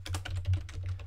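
Brisk typing on a computer keyboard, a quick run of close, crisp key clicks with a few slightly heavier strokes, heard alone.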